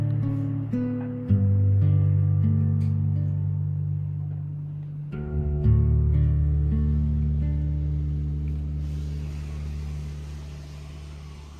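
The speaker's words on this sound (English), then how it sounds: "Traffic noise can be heard quite clearly, especially during busy times." Street traffic rumbles below a building in Nakano, Tokyo, a steady low engine drone whose pitch shifts as vehicles slow and pull away, with no voices.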